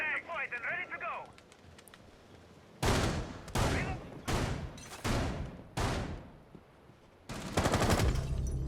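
Gunfire in a tactical shooter video game match: several loud bursts of rapid automatic fire, some short and some sustained, come after a brief quieter stretch with a faint tonal game sound.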